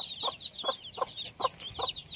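A native hen gives about five soft, evenly spaced clucks close by while her chicks peep in high, rapid chirps around her.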